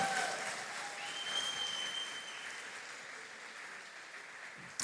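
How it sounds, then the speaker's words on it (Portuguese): A church congregation applauds during a celebration service, with steady, sustained clapping from a crowd that holds at an even level throughout, with no speech over it. "Vamos aplaudir nossos irmãos."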